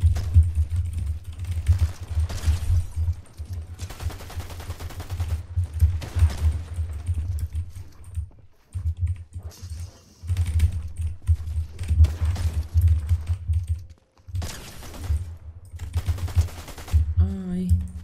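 Rapid bursts of Fortnite gunfire rattle in sequence, broken by short pauses, over a low hum and clicking keys.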